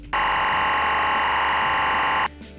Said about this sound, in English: It basically is timecode stored as an audio signal.